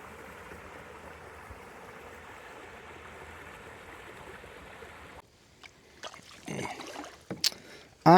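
A kayak on the Suwannee River, with a steady wash of moving water and hull noise that drops away midway, followed by a few close knocks and splashes as the paddle is lifted and handled.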